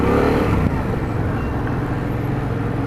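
A motorcycle engine and exhaust run at a steady, loud drone close by, with a slight surge near the start before it settles into an even rumble.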